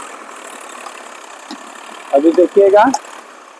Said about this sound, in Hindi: ये जो ट्रैक्टर जा रहा है